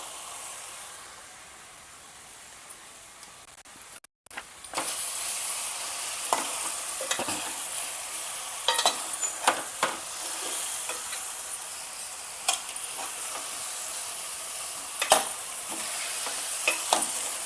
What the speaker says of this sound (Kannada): ಈ ರೀತಿ ಎಲ್ಲ ಮೇಲೆ ಕೆಳಗೆ ಮಾಡಿಕೊಂಡು ಚೆಂದಾಗೆ ಎಣ್ಣೆ ಒಳಗೆ ಹುರ್ಕೋಬೇಕು ಬದನೆಕಾಯಿನ